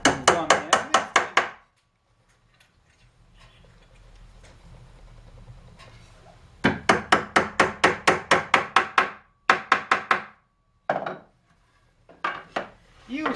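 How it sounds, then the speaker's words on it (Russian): A hammer drives guide dowels into holes in an oak barrel head, in fast runs of sharp, loud close blows with a quiet scraping pause between runs and a few single strikes at the end. "Теперь мы забиваем наши направляющие штифты в данное отверстие."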